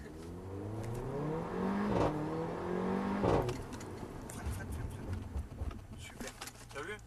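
A Mercedes A-Class on a test circuit accelerates hard, engine pitch sweeping upward twice, then brakes with tyre and chassis noise, heard from inside the car with people talking over it.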